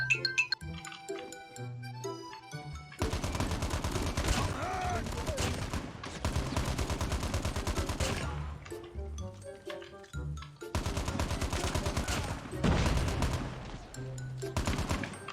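Gunfire from a high-damage gun in Call of Duty Mobile, heard as loud sustained automatic bursts broken by short pauses, over game music.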